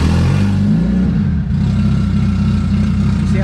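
A turbocharged Honda D16 engine in an EF hatchback runs loud and rough on its first start, a steady low rumble that dips briefly and then holds.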